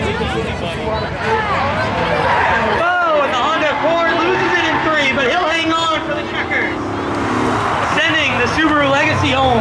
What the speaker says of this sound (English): The Honda Accord though, with the advantage over the Subaru.